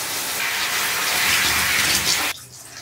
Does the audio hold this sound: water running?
yes